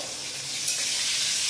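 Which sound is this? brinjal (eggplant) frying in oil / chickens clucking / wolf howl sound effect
brinjal (eggplant) frying in oil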